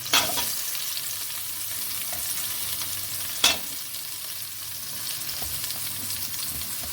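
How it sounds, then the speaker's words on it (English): Cauliflower, carrot, French beans and baby corn sauté in hot oil, giving a steady close sizzle with occasional sharp clinks and scrapes of stirring. "the cauliflower, the carrot, and I'll saute them."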